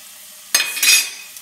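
Ten to twelve garlic cloves dropped into hot oil with popped mustard seeds, a sudden loud hiss that swells briefly, then fades after about a second.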